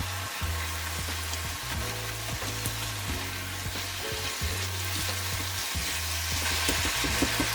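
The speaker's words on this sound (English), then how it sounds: "Put a little oil in the pan, add the ground vegetable, and fry over medium heat." Ground beef fries in oil in a pan with a constant close sizzle, broken by repeated stirring and scraping strokes that give an uneven rhythm, with no voices.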